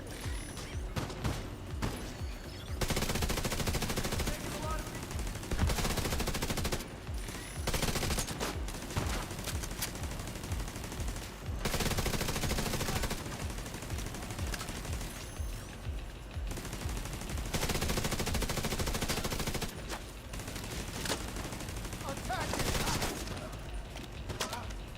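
Gunfire in the shooter game The Division 2, loud sustained bursts of automatic fire in several long volleys separated by short pauses, with some talking underneath.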